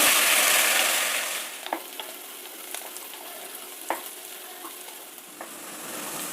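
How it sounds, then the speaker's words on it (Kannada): Vegetables for a vermicelli pulao sauté in oil in a pan with a steady, close hiss of sizzling, punctuated by occasional clicks and taps of a spoon stirring; no one speaks. "ತರಕಾರಿಗಳನ್ನೆಲ್ಲ ಎಣ್ಣೆನಲ್ಲೇ ಆದಷ್ಟು ಬಾಡಿಸ್ಕೊಳ್ಬೇಕಾಗುತ್ತೆ"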